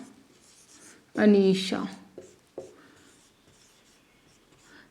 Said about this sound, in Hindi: जैसे कि हम नाम लिख रहे हैं